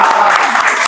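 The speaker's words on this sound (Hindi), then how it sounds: "जोरदार तालियों के साथ सिफर भाई को" A brief burst of audience applause for a poet at a poetry gathering in Bangalore, close and loud clapping that blends with a voice over it for under a second.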